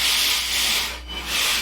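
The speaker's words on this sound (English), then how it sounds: "sand the final finish into the spatula face" Hand sanding the face of a steel spatula, a steady close abrasive scrape running in long strokes with a brief pause midway, no voices.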